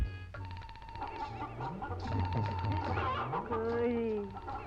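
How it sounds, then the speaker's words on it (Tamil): A live chicken clucks in a film scene, giving several close, fairly faint clucks mixed with other sounds in the scene. "உயிரோட கோழி"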